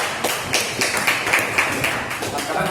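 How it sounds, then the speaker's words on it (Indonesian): Classmates clap for a presenting group in a classroom, a short run of light, fairly quiet claps with a faint voice underneath. "kita beri apresiasi berupa tepuk tangan untuk kelompok"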